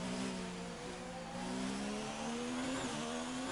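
An F1 car from the 2019 season, a McLaren at the Hungarian Grand Prix, races past in a video game: a loud, steady high-revving engine whine that sustains throughout, with pitch shifting slightly as it goes by, no talking.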